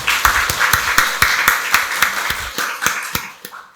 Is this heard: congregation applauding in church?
yes